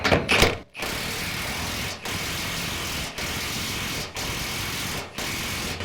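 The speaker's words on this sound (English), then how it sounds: "We're going to use our backup wrench and our socket." A socket ratchet works axle nuts tight, its pawl clicking in a steady run of strokes with brief pauses between each pull, close and fairly loud with no one talking.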